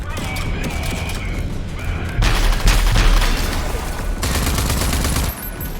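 Rapid, dense bursts of gunfire in the video game Rage 2, sustained and loud, with electronic effects and a faint voice underneath.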